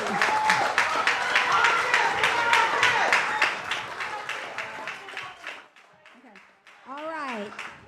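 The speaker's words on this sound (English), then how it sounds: "We're going to give a round of applause." An audience breaks into a round of applause, dense clapping that is loud at first and thins out toward the end, followed by a brief pause and a voice speaking.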